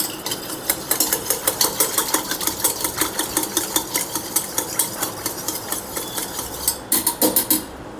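A whisk beats a cold, sweet saffron drink in a bowl with a steady, rapid rhythm of close clinking strokes that continues throughout without any talk.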